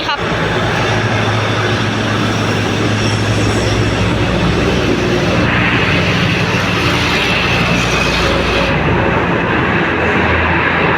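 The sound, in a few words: train no. 75 Bangkok–Nong Khai arriving at Nong Khai station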